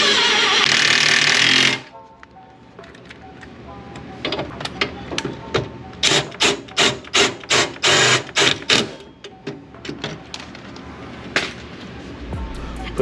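Bolts being tightened during a rear trailing arm install, heard as a burst of close, loud power-tool noise, then a rapid series of sharp rattling impact bursts and a few scattered metallic knocks.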